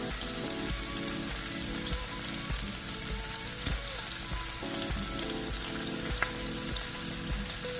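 Meatballs and potatoes fry together in a Ninja Foodi Neverstick pan, a steady close sizzle and crackle with occasional sharper pops throughout, no talking.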